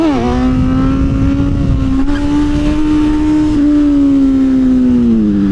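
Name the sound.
motorized Stingray bike engine revving during a wheelie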